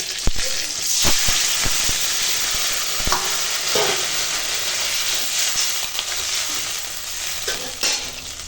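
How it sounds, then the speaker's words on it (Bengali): Water poured into a hot pan of fried brinjal, a loud hissing sizzle and steamy rush with sharp clanks of a utensil near the start, settling into steady bubbling crackle. "এখন বেগুনটা এরকম ভেজে নিয়েছি এখন দিয়ে দেবো জল"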